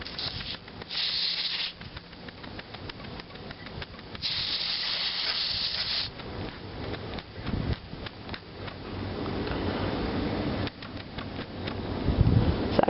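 A Fleischmann 120/2 live steam model engine on its first run gives off a continuous close hiss of escaping steam, surging louder in bursts and sputtering with spurting boiling water.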